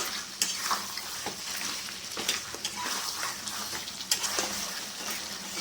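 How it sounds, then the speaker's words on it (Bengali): Mutton curry fries in its own released oil in a pot, a continuous close sizzle broken by repeated stirring scrapes and light metal knocks. "মাংসটা আবার কষে নেবো"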